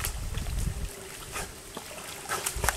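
A dog swimming in woodland water splashes in short, irregular bursts, with soft trickling and paddling sounds close to the microphone.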